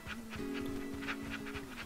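A dog panting in a video game, quick rhythmic breaths with a whimpering tone, close and steady over game ambience.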